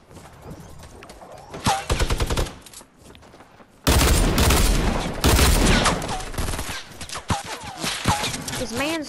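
Rapid gunfire in the video game Fortnite, with loud bursts and sustained volleys of shots crackling close by in several clusters, and voices heard between and under the shooting.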